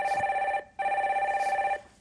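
A telephone rings twice in quick electronic bursts with a short gap between, loud and clear, signalling an incoming caller on a Korean radio call-in show.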